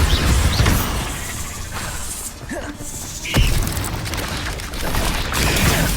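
Bombarda spell explosions in the video game Hogwarts Legacy: booming blasts and crashing impacts in the middle of dense combat effects, with a voice speaking over the action.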